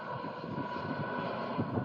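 An EasyJet plane flying low on approach into Southend Airport, a steady distant jet engine drone with faint wind noise, no voices.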